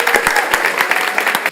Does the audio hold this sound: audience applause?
yes